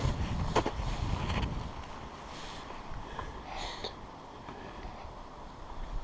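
Steady winter wind rushing and buffeting against the microphone outdoors in snowy bush near Lake Huron, with low rumbling gusts throughout and a few faint higher tones.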